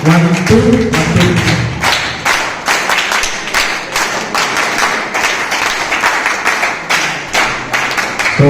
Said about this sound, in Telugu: అందరూ చప్పట్లతో ఆహ్వానిస్తారు.